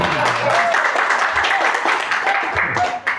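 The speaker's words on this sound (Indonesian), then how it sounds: "kalau tepuk tangan yang ikhlas Bapak Ibu. Tepuk tangan lagi." Dense crowd applause at a company event, steady clapping from many hands in a room, with a few voices mixed in beneath it.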